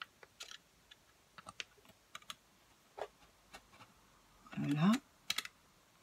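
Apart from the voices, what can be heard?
cutting slits in paper with a craft cutter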